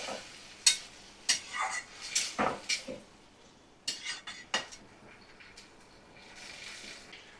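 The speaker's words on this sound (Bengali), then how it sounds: "ভালো করে 2 মিনিট কষিয়ে নিচ্ছি।" Chicken masala being sautéed in a pan, heard as a run of clattering spatula scrapes and metallic knocks over a faint sizzle that tapers off into quieter stirring.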